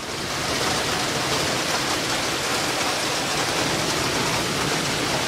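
Steady rain pouring outdoors in Auburn, Georgia, a dense, even hiss of heavy rainfall that holds constant throughout, close and loud with no voices.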